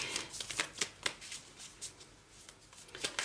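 Tarot cards riffle and shuffle in quick bursts, soft papery flicks and slaps close to the mic, with no talking.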